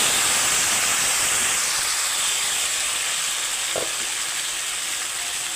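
Potatoes and onions fry in oil with cardamom and cinnamon, a steady close sizzle and hiss running throughout, with one small knock partway through.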